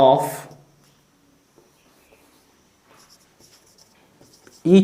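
Chalk or marker writing an example on a board in a grammar lesson, faint scratchy strokes between bursts of a teacher's speech.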